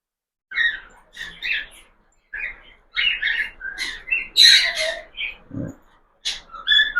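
Pet cockatiels, a breeding pair, give a series of shrill, close chirps and whistled calls in short bursts separated by brief pauses, with one low thump near the end.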